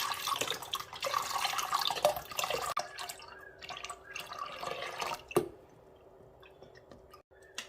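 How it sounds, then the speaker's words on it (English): UHT milk is poured into a saucepan in a steady liquid stream that splashes and gurgles, then thins to a few faint drips and quiet. "pop the milk into your saucepan"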